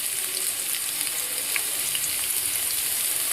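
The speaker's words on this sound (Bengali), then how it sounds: "এটাকে ভালো করে নেড়ে চেড়ে একটু ভেজে নিলাম।" Chopped onions frying in soybean oil while being stirred, a close, even sizzling hiss with faint scattered crackles and light stirring noises throughout.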